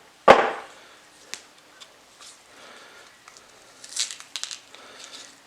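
A knife cuts into a sprouted onion at its split, one sharp loud chop followed by quieter scattered cuts, crackles and rustling handling sounds.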